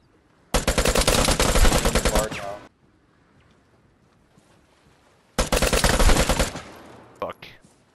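Two loud bursts of rapid automatic gunfire in a video game, each lasting about two seconds, split by a quiet gap with faint background noise.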